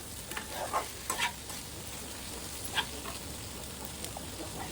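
Okra stirred in a hot pan, a soft scraping and sizzle with a few brief louder stirring strokes over a steady low frying hiss, close by and fairly quiet, no talking.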